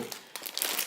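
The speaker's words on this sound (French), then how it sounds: "Excusez-moi pour le bruit du papier, mais j'ai pas voulu tout enlever." Paper crinkles and rustles while a toy bucket set is unpacked, with a few close, crisp bursts of crumpling that grow busier toward the end.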